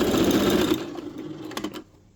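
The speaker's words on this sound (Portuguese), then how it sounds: "Costurar a lateral do punho, igual costurou a gola, tá?" A sewing machine stitches the side seam of a cuff on a small pet dress, running briefly and close, then slows and stops with a few light clicks.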